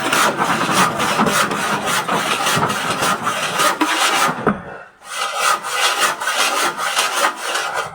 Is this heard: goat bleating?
no